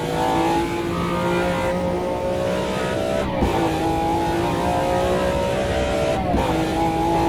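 A BMW V12 racing car engine in the video game Automobilista 2 wails at high revs, climbing steadily through the gears with two brief dips at shifts, loud and continuous.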